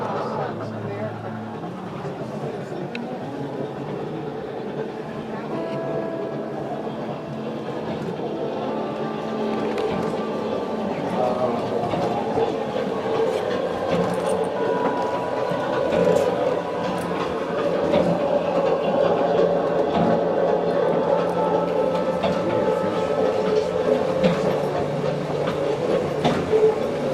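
A train carriage at the California State Railroad Museum rolls along with a steady low rumble and faint rhythmic clatter; a voice speaks over it now and then.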